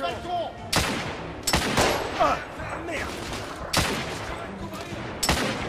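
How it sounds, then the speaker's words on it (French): Bursts of gunfire aimed at the player in The Order: 1886, sharp loud shots landing in clusters every second or so, with a voice reacting over the shooting. "il me tire dessus"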